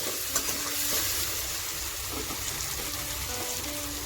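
Raw mango and fish with salt and turmeric frying in a pan and being stirred, a steady close hiss and crackle with soft scraping running throughout, and no voices.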